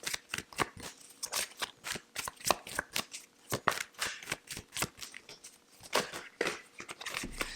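Tarot cards are shuffled and drawn, giving rapid papery riffles and soft flicks in an irregular stream of bursts, quiet and close with no speech.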